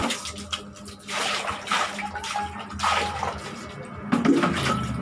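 Water poured and splashing into a basin or bathroom fixture, a continuous gurgling, splattering flow that comes close and fairly loud and swells near the end.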